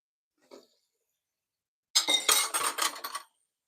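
Dishes and cutlery clink and rattle at a kitchen sink during washing up at home in the early morning, a brief soft tap and then a busy burst of clattering plates and silverware, close by with no talk.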